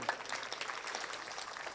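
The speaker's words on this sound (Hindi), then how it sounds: "आप ताली बजा रहे हैं" A seated audience at a Bhagwat Katha religious discourse clapping together, a soft, continuous patter of many hands, fairly faint and even for the whole stretch with no talking over it.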